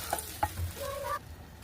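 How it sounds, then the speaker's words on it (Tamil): Sautéed onions tipped from a pan into cooked dal for drumstick sambar, a few clinks and a short scraping pour over a faint sizzle, then sudden quiet. "வெங்காயம் நல்லா வதங்கிட்டு இப்போ நான் பருப்புலேயே கொட்டிடுறேன்."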